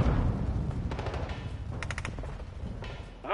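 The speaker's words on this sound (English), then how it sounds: "Sentry gun." A sentry gun opens fire in Call of Duty Modern Warfare 2, rattling off bursts of rapid shots over a dense, rumbling battle backdrop, with no talking heard.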